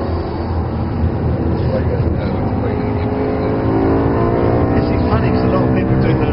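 A supercar engine in the PS3 racing game Supercar Challenge drives off, its loud, steady roar climbing in pitch as it accelerates and filling the whole stretch.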